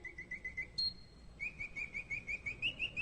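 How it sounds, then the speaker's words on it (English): Small bird singing nearby, a quiet run of rapid high chirps in repeated trilling phrases, with a brief pause and a single higher note before the song resumes over faint background hush. "Listen to that bird singing."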